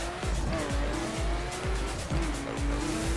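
A Nissan Skyline race car in The Crew, its engine note climbing through repeated gear shifts in steady sawtooth sweeps, loud and close with a low constant rumble and no talk.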